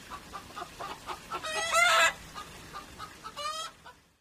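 Hens clucking and chattering in short bursts, with a couple of louder squawking calls rising above the steady clucks.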